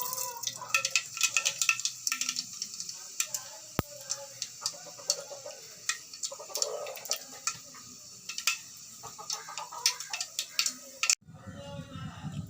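Mustard seeds spluttering in hot oil in a kadai, a dense run of sharp irregular pops and crackles close by, fading out near the end.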